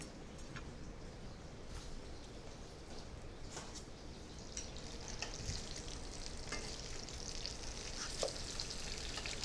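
Salmon sears in a hot pan with a steady, soft sizzle and crackle, quiet and close, with occasional louder spits and a brief rise in hiss toward the end; no one talks.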